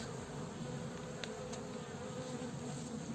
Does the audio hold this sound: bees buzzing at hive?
yes